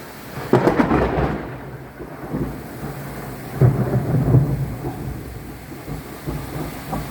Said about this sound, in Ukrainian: Нічого собі, оце ливеняка у нас.